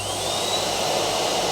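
A Henry Hoover vacuum cleaner runs steadily, a loud continuous whine with a faint high tone on top, holding level and unbroken for the whole stretch.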